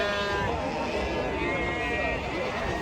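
Sheep at a large livestock market where whole groups of big sheep are sold together, a dense continuous crowd noise with bleating mixed into a steady babble of people talking nearby.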